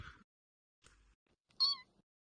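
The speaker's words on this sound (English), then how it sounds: "That creature that's all the way on the far right is a cat." A cat lets out one clear, close meow after a couple of faint soft noises, in an otherwise quiet room.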